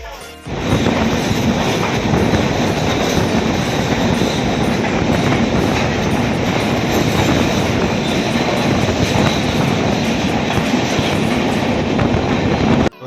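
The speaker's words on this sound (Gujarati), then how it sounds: "અહીં ટ્રેનનું ક્રોસિંગ છે" A moving train near Palghar in Maharashtra clatters loudly along the rails in a steady rhythmic clickety-clack, close by and continuous, starting abruptly and cutting off at the end.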